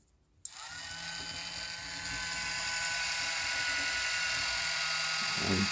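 A rotisserie motor switches on with a click and runs as a steady high whine while turning a leg of lamb, close and continuous, with a small clatter near the end.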